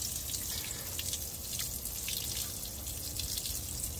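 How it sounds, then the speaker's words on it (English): Water drains from a vehicle door through an opened tab at the bottom of the door, a steady close splashing trickle and patter with a bright, hissy spray quality, continuous and without speech. "If you got water in your door already started, you just take this little tab on the bottom of your door and look at that."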